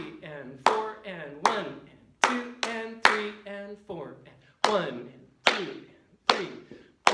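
Sixth-grade band students clap eighth-note rhythms in unison, sharp separate claps falling in short groups with brief gaps between them, fairly close and clear in a room.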